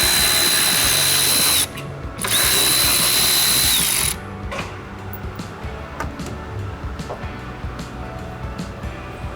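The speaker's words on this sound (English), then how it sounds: "I'm going to use a 10mm socket and remove the brackets" A power tool drives a 10mm socket to remove radiator brackets on an S550 Mustang, a loud close whirring burst that stops briefly and restarts, then gives way to lighter clicks and handling noise.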